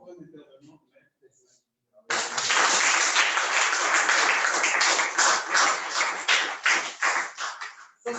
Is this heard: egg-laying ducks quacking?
no